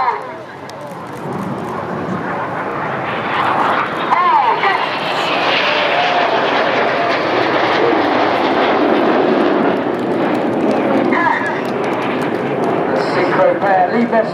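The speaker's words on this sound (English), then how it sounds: "These four aircraft are now descending to just 100 feet above the sea" Red Arrows jets making a low pass at about 100 feet over the sea at the Sunderland Airshow, a loud, continuous jet roar swelling and holding, with a commentator talking over it.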